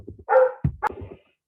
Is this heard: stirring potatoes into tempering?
no